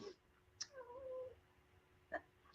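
A house cat lets out a few quiet meows, one stretched and wavering, then two short sharp calls, fairly close in a quiet indoor room.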